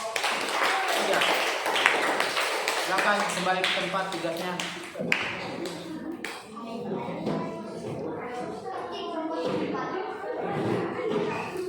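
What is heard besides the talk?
classroom clapping for a presenting group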